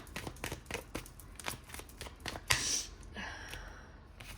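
Tarot cards being shuffled by hand in a series of quick, crisp riffling flicks up close, ending in a softer slide.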